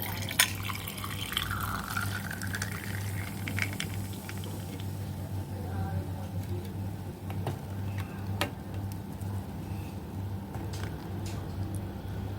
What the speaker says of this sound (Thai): เห็นไหมคะ มีความซ่าขึ้นมาเนี่ย เดือดปุ๊ดๆ แบบนี้เลย